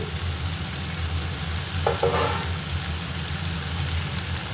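Eggplant, pointed gourd and carrot sizzle steadily in a hot frying pan, with a brief clatter of stirring midway through the even, close frying hiss.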